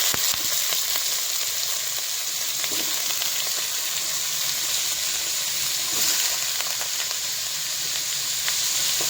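Chopped bottle gourd frying in a pan, a steady, fairly loud sizzle with faint crackles and occasional stirring scrapes, no voices.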